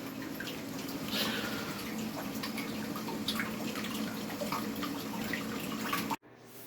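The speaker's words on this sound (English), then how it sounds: "I'll take the pipe off at this point here right now, tip it upside down, drain it properly." Water drains from an upturned pipe in a cold cottage cellar as a steady trickle with scattered drips, continuing until it stops abruptly near the end.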